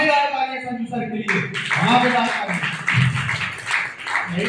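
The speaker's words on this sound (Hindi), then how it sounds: "एक बार जोरदार और धमाकेदार तालियां संजू सर के लिए, धमाकेदार तालियां" Audience applause at a Safe Shop business plan seminar in India: a raised voice gives way to a sustained wash of clapping that runs beneath continuing talk.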